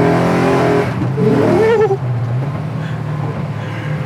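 A 735 hp 1970 Chevelle SS accelerating hard while smoking its tires, a loud close engine roar climbing in pitch, then settling into a steady strong drone with tire noise.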